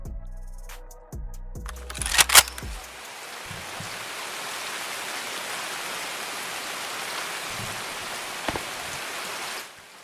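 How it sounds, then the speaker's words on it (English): Steady, hissing rainfall in the video game Escape from Tarkov fills most of the stretch after a few sharp clicks and clatters at the start, then cuts off abruptly at the end. "the rain is quieter in Gray Zone"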